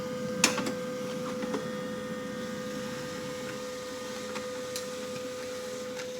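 An HP LaserJet M1005 MFP laser printer makes a photocopy at 100 percent, giving a steady mechanical hum with a few faint clicks and ticks, heard up close with no talking.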